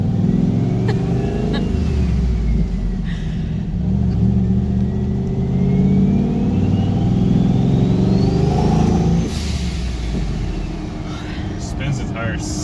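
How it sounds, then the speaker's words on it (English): A turbocharged EFI 460 Ford V8 accelerating hard and spinning its tires, heard from inside the car as a loud, rising engine roar with a whistle that climbs, then eases off near the end. "Spins the tires so easy."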